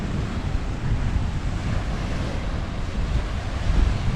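Waves lap steadily along a large lake beach at Lac des Tortues while gusty wind buffets the microphone in a continuous broadband rush, with no voices present.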